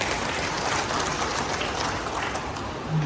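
A crowd at a business event claps in steady, dense applause that holds evenly from start to finish, with no voices rising above it.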